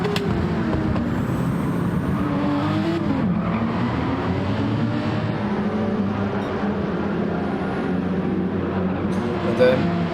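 Race car engines in a sim racing game drone and whine continuously through a track section with a corkscrew, their pitch sweeping as the cars shift and brake, with commentators talking over the engine noise throughout.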